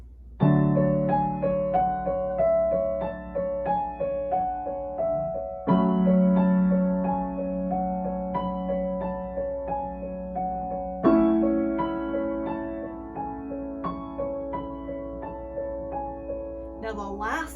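Piano playing a flowing passage, with steady repeated notes over sustained bass chords that change every few seconds, close and clear with no voice.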